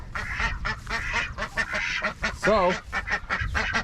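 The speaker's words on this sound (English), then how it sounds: "And then we got ducks." Homestead ducks quack loudly and repeatedly at close range, a dense overlapping chorus of honking calls, with a brief spoken word from a person.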